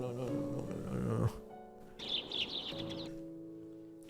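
Nuthatch birds hidden in a thick bush give loud, chirping calls in short bursts close by, over a low background rumble, with no talking.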